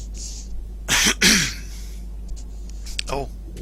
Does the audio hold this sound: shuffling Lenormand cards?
no